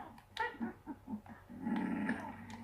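A dog in a Minecraft-style video game gives short, close barks and growling yelps in quick succession, followed by a longer rough growl toward the end.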